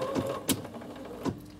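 A Bernina 7 series sewing machine with its embroidery module starts to stitch: a few sharp, close mechanical clunks spaced apart by short pauses over a low motor hum.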